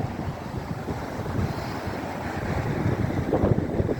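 Windy sea waves wash and splash against a harbour pier during a storm, a steady broadband surf roar with gusting wind noise that swells slightly louder toward the end.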